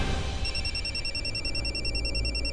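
A phone rings with a call from an unknown number. The electronic ringtone chirps in a repeating pulsed pattern over a low background hum. It is fairly faint, and no one speaks.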